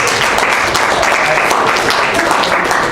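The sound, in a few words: audience applause for the couple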